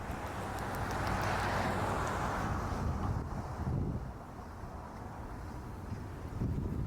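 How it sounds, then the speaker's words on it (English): Steady wind roars and buffets against the microphone, a broad rushing noise that swells and eases slightly over several seconds, with no talking. "A little windy up there today."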